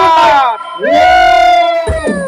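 A loud crowd at an outdoor Thai temple festival concert in Sukhothai cheers and whoops, with long sustained shouting voices rising together before a burst of mixed yelling.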